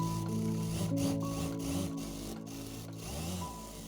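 A sewing machine runs steadily while stitching a folded seam on a frock, a continuous mechanical whir with rhythmic pulses and brief dips, close and alone with no talk.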